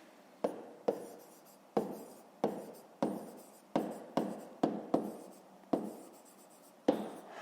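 A pen writes numbers on paper during a fifth-grade maths exercise. It gives about a dozen short, crisp scratching strokes at an irregular pace, heard close and alone with no talk.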